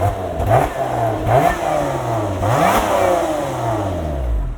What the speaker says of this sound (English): Yeah, we'll give it a couple of revs, why not?